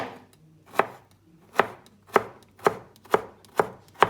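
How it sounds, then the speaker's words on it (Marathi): Potatoes being finely chopped with a knife on a board for a Goan stuffed forminhas recipe: seven sharp, evenly spaced chops close up, alone without talk. "ते भाशेन हांव बटाट कातता, आमकां बारीक तितून बारीक"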